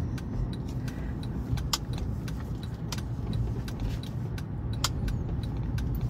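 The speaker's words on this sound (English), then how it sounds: "We still have the real noisy truck in front of us." A steady low rumble of an idling truck engine fills the clip, with faint metallic jingles and clicks scattered over it.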